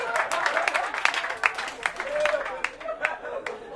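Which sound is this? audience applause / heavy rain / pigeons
audience applause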